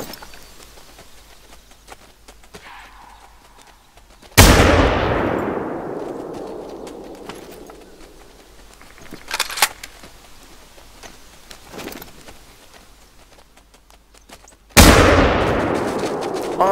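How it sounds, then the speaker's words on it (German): Rifle shots ring out in the hunting game Hunter: Call of the Wild, two loud sharp blasts several seconds apart, each followed by a long echoing decay across open terrain, with quiet ambient stretches and faint clicks between them. "Zwei Schüsse drauf."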